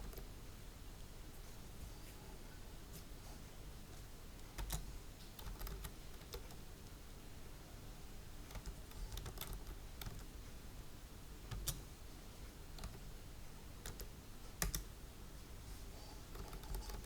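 Computer keyboard being typed on steadily to enter a network-scanning command during a penetration test, a soft continuous patter of keystrokes with a few sharper clacks, close and quiet with no talking.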